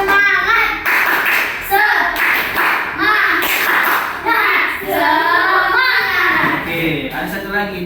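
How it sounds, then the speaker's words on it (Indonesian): A primary school class performs the 'tepuk semangat' clapping chant, with sharp group claps in a quick rhythmic pattern under children's chanting voices, close and loud. "Tepuk semangat."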